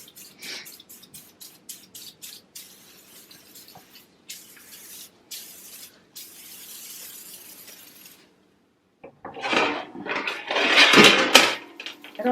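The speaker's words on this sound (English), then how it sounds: "I'm also going to spray this and put it back in the oven." Cleaner is sprayed from a trigger bottle in a quick series of short hissing bursts, followed by a brief pause and then louder clattering and rustling as the sprayed part is handled near the oven.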